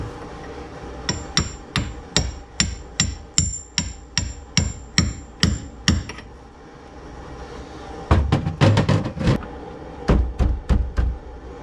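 A hammer taps a part into a car's steering column, about a dozen evenly spaced metallic knocks followed by a pause, then a quicker cluster of harder blows, close and loud with no talking.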